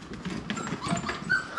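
American Bully puppies whimpering softly and yipping while being dewormed, a few faint high whines indoors at close range.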